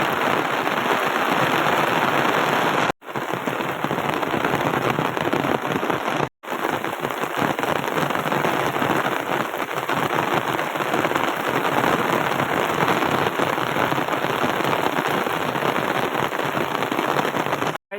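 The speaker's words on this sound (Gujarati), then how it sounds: "ભારે વરસાદ ચાલુ થઈ ગયો" Dense, loud heavy monsoon rain pouring down steadily over a village, a constant hissing roar of drops hitting surfaces, broken by a couple of abrupt cuts.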